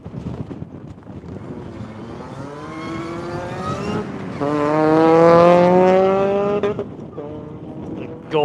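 A golden Toyota Camry race car accelerates away on a lap, its engine note climbing through rising harmonics and swelling louder as it passes, then easing off, with a commentator talking over it.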